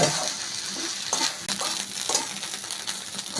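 Broken rice (khud) fries and sizzles in a pan for a traditional village dish, with steady close frying hiss and a few sharp scraping stirs and light metallic clinks.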